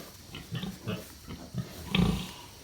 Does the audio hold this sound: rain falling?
no